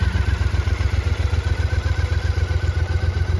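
A 2013 Triumph Scrambler 900 with a fuel-injected 865 air-oil-cooled engine idles close by. It gives a steady, even low-pitched pulsing throb with light mechanical clatter and no revving.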